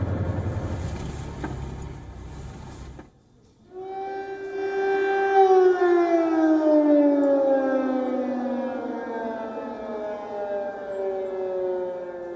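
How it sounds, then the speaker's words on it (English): A wailing air raid siren in Kyiv rises after a brief gap and then slowly falls in pitch, sustained and loud, with noisy rumble at the start. "Sirens in Kyiv continue to ring through the night."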